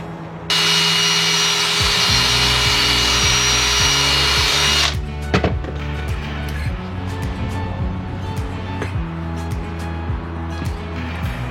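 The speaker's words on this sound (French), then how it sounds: "on va venir percer notre petit gabarit" A power drill bores through a small wooden jig during van conversion work, a loud steady whine for several seconds that cuts off, followed by quieter workshop handling noises.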